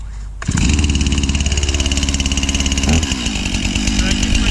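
A STIHL chainsaw, pulled with the decompression valve pushed and the choke on, fires up and runs, a loud, close, rough two-stroke buzz with a fast pulsing idle that holds steady for several seconds, with no talk over it.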